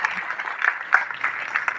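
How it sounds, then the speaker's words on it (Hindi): A crowd applauds at a Lab Technician Day event in a hospital hall, a steady patter of many hands clapping at moderate distance for a couple of seconds. "तालियां रुकनी नहीं चाहिए"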